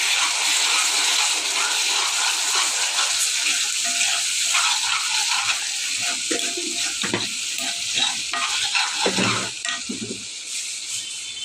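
Water poured into a hot pan of frying food hisses and sizzles steadily and fairly loudly, with a few stirring scrapes and bubbling bursts toward the end, no talking.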